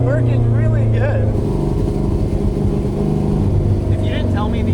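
Loud, close engine drone from a car with an LS engine running on three lawn mower carburetors, the note rising and settling through the clip while voices talk over it.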